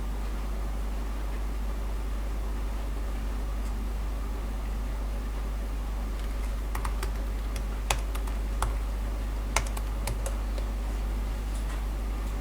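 Light, rapid tapping of keys on a MacBook Pro A1708 laptop keyboard over a steady low hum, with a few sharper clicks standing out near the end.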